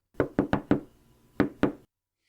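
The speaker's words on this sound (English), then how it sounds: "He knocks at the door." Knocking on a door in a dramatized audiobook reading: four quick raps, a pause, then two more, crisp and close, with no voices over them.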